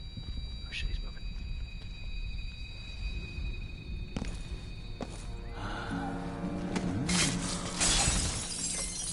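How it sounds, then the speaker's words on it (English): Glass shatters in the video game Dishonored 2, with several sharp bright crashes and tinkling breaks coming in bursts over steady background noise, while someone talks throughout. "Why'd you break all that glass, dude?"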